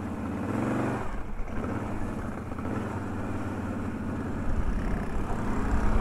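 A tuned car with a new ignition map and removed limiters drives over wet sand, its engine giving a steady, buzzy drone that swells slightly near the end, heard alone without talk.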